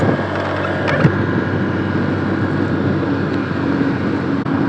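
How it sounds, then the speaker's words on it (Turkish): A Honda SH 125 scooter engine runs steadily with a low, even hum and some wind rush, continuous throughout without speech. "Yine motor sesi Honda'nın klasik motor sesi sessiz çok"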